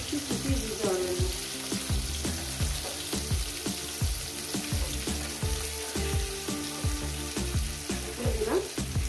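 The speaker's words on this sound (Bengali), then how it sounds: "এবার এটাকে আমি প্রায় 7 থেকে 8 মিনিট আমি এটাকে ভাজবো" Chopped jackfruit frying in a pan sizzles steadily throughout, with stirring clinks and scrapes at a regular pace and faint music playing under it.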